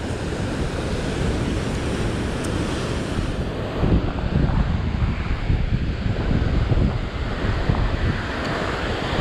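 Sea waves surge and break steadily against a rocky shore during sea fishing, with constant loud wash and wind buffeting the microphone, no voices present.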